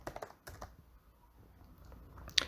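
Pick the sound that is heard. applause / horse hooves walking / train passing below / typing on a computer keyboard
typing on a computer keyboard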